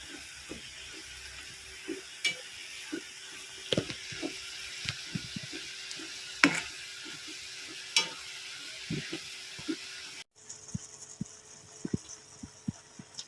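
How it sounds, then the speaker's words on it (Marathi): Fenugreek leaf bhaji with grated fresh coconut is stirred in a pan, soft sizzling under irregular spatula scrapes and clicks, fairly quiet and close, with a brief change in background partway through. "भाजी सर्व मिक्स करून घ्यायची अशी"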